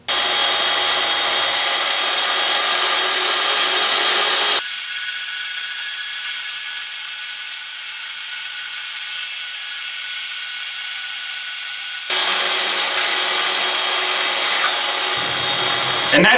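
A Milwaukee M18 FUEL 2729 cordless bandsaw mounted on a SWAG 4.0 table runs loud and steady, its motor whine dropping in pitch as the blade bites into a cut midway, then returning to free-running before stopping.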